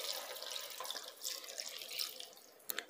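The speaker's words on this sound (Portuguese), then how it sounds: "Vamos estar acrescentando água." Water pours into a pan of ground beef and vegetable sauté cooking on the stove, a continuous splashing stream with a sharper splash near the end and no talking.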